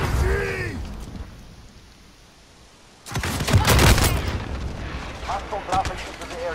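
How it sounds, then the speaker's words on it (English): Precision airstrike explosions in Call of Duty Warzone erupt midway as a loud, rumbling cluster of booms after a quieter stretch, with a voice speaking over the start and again as the blasts fade. "Precision airstrike, get down!"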